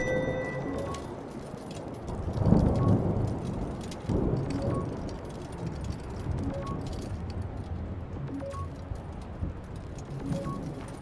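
Rain pours steadily through a stormy scene in the PC game Return To Grace, with low rumbling swells of thunder, the loudest near the start, and faint occasional chiming tones over the continuous downpour.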